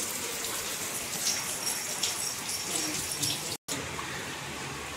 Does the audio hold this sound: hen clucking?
no